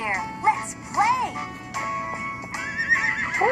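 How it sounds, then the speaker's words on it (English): A horse whinnies repeatedly in loud, close, high-pitched bursts with rising and falling pitch, a short clip-clop under the calls, probably from a children's toy or video. "Horsey. Horse."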